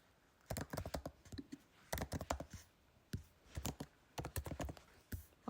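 Quiet keystrokes come in quick bursts of clicks from a computer keyboard as a father's name goes into an online study permit application form, with short pauses between the bursts.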